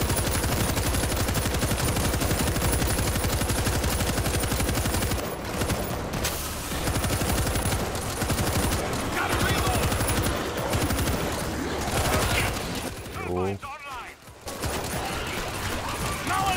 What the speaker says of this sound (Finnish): Place the machine gun.